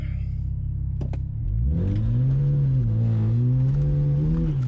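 Truck engine with a deleted emissions system revs hard from a rumbling idle, pitch climbing and holding high as the tires break loose and spin on a road, loud and close with no talk.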